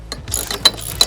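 Ratcheting clicks while a fitting is tightened on a Holman drop-down ladder rack mounted on a RAM ProMaster van, a close, fairly loud sequence of quick clicks with a few sharp peaks and no talk.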